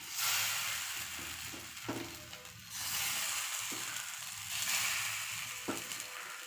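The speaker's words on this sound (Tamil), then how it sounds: "மிளகாத்தூள் போட்டு வச்சுருக்கிறத வாழைக்காய் நம்ம இப்போ தவாவில் போட்டுக்கலாம்" Plantain slices seasoned with chili powder and salt sizzle on a hot tawa, a steady bright frying hiss that swells and eases in waves, punctuated by a few soft clinks and scrapes, with no talking.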